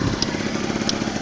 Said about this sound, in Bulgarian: по отношение на двигателя сигурно се чува как работи